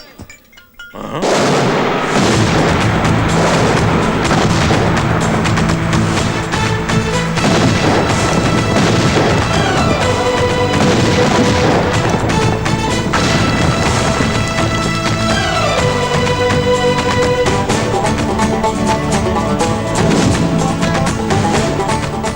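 Loud, continuous cinematic booms and blasts with crashing debris in a Telugu action film scene, sustained at high intensity for the whole stretch after a brief quiet start.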